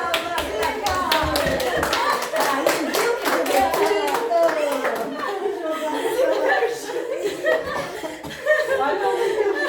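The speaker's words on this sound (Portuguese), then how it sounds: "Palmas, legal!" Congregation clapping along at a women's church service, steady rhythmic hand claps mixed with laughter and chuckles, with voices talking over the clapping throughout.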